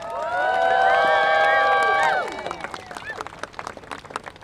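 A crowd of hundreds at an outdoor clean-power and transit rally breaks into loud cheering and whooping over sustained clapping, then the voices fade, leaving patchy applause that thins out.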